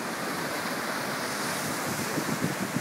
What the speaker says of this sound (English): Another tsunami coming in right now.